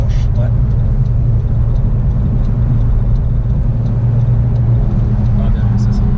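Honda Civic engine on the Nürburgring, a loud steady low rumble from inside the car as it pulls through third gear, with a voice speaking over the drone.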